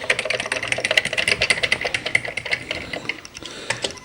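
Rapid, uneven keystrokes on a Commodore 128 home computer keyboard clatter close and steady for about four seconds, with no voices.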